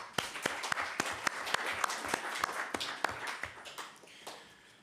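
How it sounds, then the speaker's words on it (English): Applause at a council meeting following a presentation: a small group clapping, with individual claps sharp and distinct in a loose rhythm, fading out over a few seconds. "Can we get a round of applause for the presentation?"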